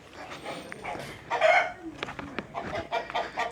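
A feisty Rhode Island rooster crows once, loud and close, among scattered clucking and other fowl sounds, with a bark-like call and brief movement noise around it.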